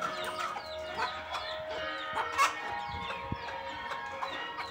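Free-range village chickens clucking and calling together at feeding time in a farm yard, a busy overlapping chorus of short clucks and squawks with no voices.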